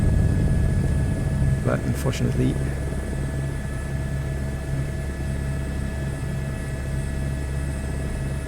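A helicopter flying over Paris in Microsoft Flight Simulator 2024 gives a constant low rotor and engine drone with steady tonal hum, loud and unbroken while someone talks briefly over it.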